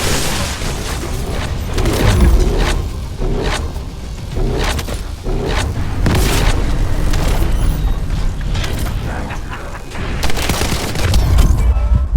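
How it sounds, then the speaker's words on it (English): A generator blown up with high-voltage fuses in The First Descendant booms out loudly, followed by heavy rumbling, crashing and mechanical clatter across a sustained, noisy stretch of action. "the fuses you find, boom, blow up the generator"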